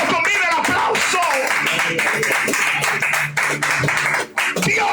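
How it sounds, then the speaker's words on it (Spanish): Church congregation clapping together during worship, a fast, steady rhythm of many hands mixed with loud voices and crowd noise close by. "Dáselo conmigo el aplauso."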